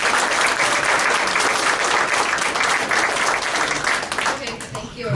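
At a unity celebration event, an audience gives dense, continuous applause that is loud and close throughout, tapering off slightly near the end.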